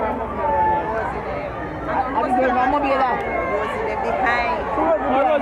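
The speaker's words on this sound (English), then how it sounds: "Here the crowd ramping and raging." Lively crowd chatter and shouting at an Emancipation Day street gathering in Jamaica, a dense, steady babble of many voices close by throughout, rising and falling without a break.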